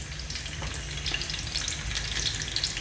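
Chopped onion fries in hot oil for a rohu fish curry, giving a loud, continuous close sizzle with light stirring and no voices.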